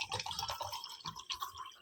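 Drinking water poured out at home before a meal, a short continuous splashing, trickling stream with bubbly fluctuations, close and fairly loud, with no talking.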